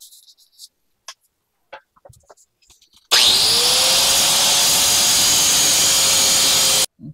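A power tool cuts bolts on a Jeep XJ: after a few quiet clicks and knocks, a loud, steady, high whine starts abruptly, holds close by for nearly four seconds, then cuts off sharply.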